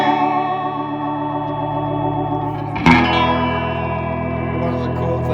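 Fender Dimension IV sound expander effect run through an amplifier with its reverb turned up, giving a dense, swirling, echo-laden instrument tone that swells and sustains throughout, with a sudden brighter strike near the middle.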